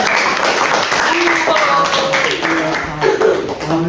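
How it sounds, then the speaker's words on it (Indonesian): An audience applauds for Ahi at a teaching-performance assessment session: a steady, fairly loud wash of clapping lasting the whole stretch, with voices and laughter-like calls mixed in over it. "boleh tepuk tangan buat Ahi"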